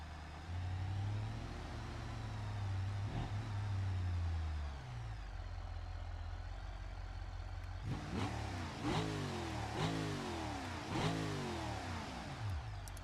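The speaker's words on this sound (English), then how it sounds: "It is time for one final burnout." A car in BeamNG does a burnout, its engine droning at a steady pitch that sags, then climbs in a series of four or five rising revs and gear-like sweeps, loud and continuous with no talking.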